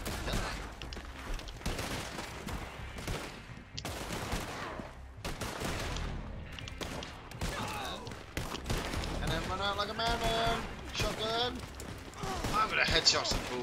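Gunfire from the Red Dead Redemption video game, with rapid bursts of shots and volleys crackling through most of the stretch over busy game sound and music-like tones.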